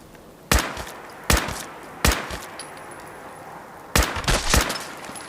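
Gunfire in Fallout 4 cracks out in sharp, loud single shots spaced about a second apart, then a quick cluster of three near the end, each with a short echoing tail.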